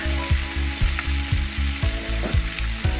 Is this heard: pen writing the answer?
no